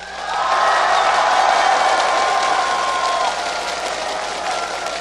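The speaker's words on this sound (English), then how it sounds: "If you want CLG EU to take this game, give them a cheer" A crowd at a League of Legends esports match cheering and applauding, a loud sustained roar with a rising whoop near the start, then settling into steady clapping.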